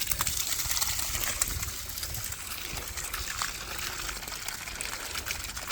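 Water runs out of a broken water line, a steady trickling and splashing flow with no voices, fairly faint and continuous against a soft outdoor background.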